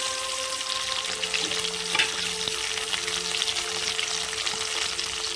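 Chicken masala curry frying and sizzling in a pan as coriander is added, with a continuous hiss of hot oil and occasional stirring scrapes, close and steady with no talk.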